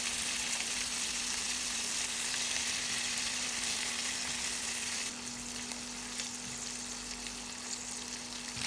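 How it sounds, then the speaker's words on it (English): Pork stir-frying in hot oil in a pan over medium-low heat, a dense, continuous close sizzle that holds steady throughout and eases slightly partway, with no voices. "Add the pork and stir-fry over medium-low heat until the liquid evaporates."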